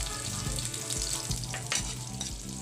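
Garlic and onion sizzle steadily in a hot pan for Filipino adobo-style papaya noodles. The frying crackle is close and continuous, with light stirring scrapes and no voices.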